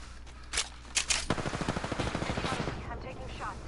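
Automatic gunfire in the video game Apex Legends: a few separate shots, then a rapid, steady burst of rounds at moderate loudness, with faint voice chat at the edges.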